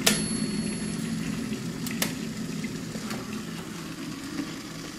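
An electric jug of water at a rolling boil, a steady dense bubbling and hiss held close and fairly loud, with a few sharp clicks near the start and around two seconds.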